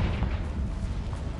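Confringo fire blast spell in the Hogwarts Legacy video game, a dense roaring explosion that fills a short burst with sustained low rumble and crackle, loud and close.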